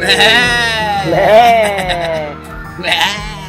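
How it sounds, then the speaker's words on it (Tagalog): Goats bleat loudly and close by, wavering cries that overlap with people talking over them. "Ayun yung mga kambing, oh."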